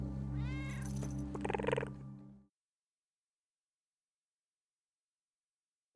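A domestic cat meows in a short series of close, loud, drawn-out cries lasting a couple of seconds, then falls silent.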